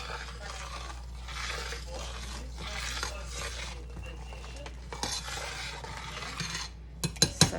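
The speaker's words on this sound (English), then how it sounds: "stir them really well right away because they might start sticking at the bottom if you don't" Spoon stirring grits in a pot on the stove: continuous scraping swirls in slow, repeating strokes close up, ending with a few clinks of the utensil against the pot.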